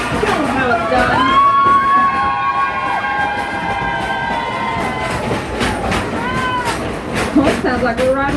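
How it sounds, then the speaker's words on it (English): Riders on a theme park train scream and shout together as a loud crowd, with high children's shrieks rising and falling over the steady rumble of the moving train. "I want y'all to scream as loud as you can"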